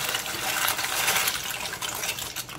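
Dry pasta goes into a pot of water for a smoked bacon sauce pasta, with a steady, close sloshing, rushing water sound and no talk over it.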